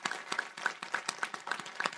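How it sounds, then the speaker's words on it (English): Audience applause at a county spelling bee in Los Angeles: a steady patter of many hands clapping in a hall, moderately loud and continuous for the whole stretch, with no voices over it. "we need to applaud for number 3."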